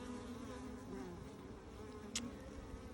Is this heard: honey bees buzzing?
yes